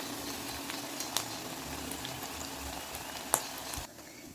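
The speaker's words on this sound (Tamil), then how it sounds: "நம்ம நல்லா சிவக்க வறுத்து எடுத்துக்குவோம்" Taro root (colocasia) slices frying to a crisp roast in a pan of oil, giving a steady, dense bubbling sizzle that holds through, with a couple of faint clicks before the sound drops away near the end.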